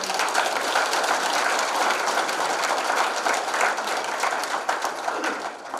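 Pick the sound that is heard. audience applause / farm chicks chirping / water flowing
audience applause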